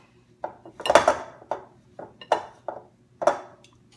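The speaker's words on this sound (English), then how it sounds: "I really like my pastry blender. So I'm just gonna cut this ghee in here." Pastry blender cutting cold, still-firm ghee into a crumble topping for a marionberry-peach crumble, giving a series of sharp metallic clinks and scrapes against a bowl in an irregular rhythm, close and clear with no talk.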